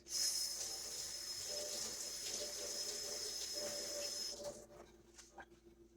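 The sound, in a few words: rinsing a measuring cup under the tap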